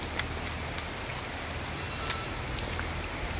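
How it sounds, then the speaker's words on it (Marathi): Rain falls in a soft, continuous patter, with scattered brighter drop ticks over a low, steady wash of sound. No voices are heard. "धबधबा नाही, पाऊस चालू आहे."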